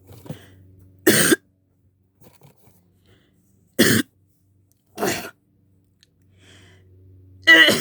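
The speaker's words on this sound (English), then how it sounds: "I have a cough." Four short coughs, loud and close, spaced unevenly with quiet gaps between them, from a cartoonish character voice in a Wario-themed skit; no talking.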